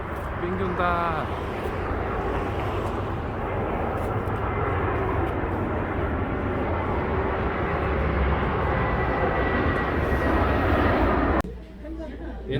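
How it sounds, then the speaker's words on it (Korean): A passenger jet roars loud and steady overhead at a Jeju Island airport, a broad continuous engine rumble that holds for about eleven seconds before cutting off abruptly, with faint voices in the background. "비행기 온다."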